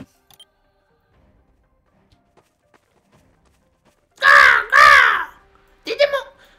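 A crow in a Demon Slayer roleplay video game gives two loud, close caws back to back after a quiet stretch, followed by a shorter, softer call.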